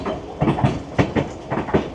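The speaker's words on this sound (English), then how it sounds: "we're on the train, we're moving" A White Pass Railway train rolls along its rails, heard from on board as a close, rhythmic clickety-clack of wheel beats over a continuous rumbling hiss.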